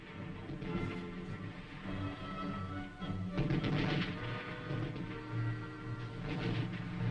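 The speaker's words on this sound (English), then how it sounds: "Due to machine gun and mortar fire from infiltrated enemy troops, the convoy halts." Machine gun and mortar fire during the Korean War rumbles and thuds at a distance in a continuous, muffled barrage, with heavier booms swelling midway through.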